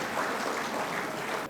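An audience at an Arya conference in Jammu-Kashmir gives a burst of dense, steady applause to welcome Acharya Somdev, then it cuts off abruptly at the end.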